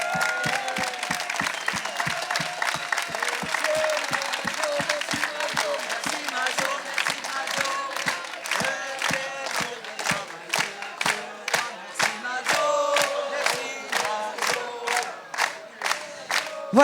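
A festival closing audience claps in steady rhythmic unison, loud and sustained, with crowd cheering and voices mixed into the applause throughout.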